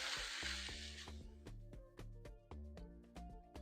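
Coleslaw mix and browned hamburger meat hiss in a hot pan with a bright, steady sizzle that is strongest at the start and then fades beneath rhythmic background music.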